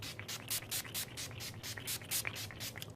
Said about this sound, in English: So I'm going to make sure to shake this up before spraying it